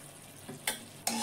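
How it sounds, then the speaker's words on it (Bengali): Bottle gourd chutney with turmeric being stir-fried in a pan, heard as two short, fairly quiet scraping strokes of a spatula over a soft background sizzle. "হলুদটা দিয়ে একটু কষে নেব।"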